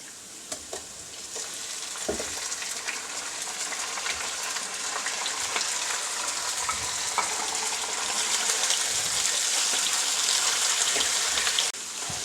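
Chicken pieces sizzling and frying in hot oil in a pan with golden-browned onions, a steady close crackling hiss that builds slightly and holds throughout, with occasional stirring clicks.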